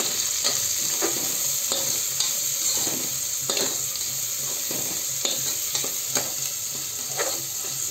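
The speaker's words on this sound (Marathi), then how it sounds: "आता हिरव्या मिरच्या घालायच्या, त्यालाही मस्त 2 मिनिटं परतून घ्यायचं" Green chillies sizzle in hot oil in a pan for masale bhat, a steady frying hiss with repeated scraping and stirring strokes of a spatula throughout, close and alone without talk.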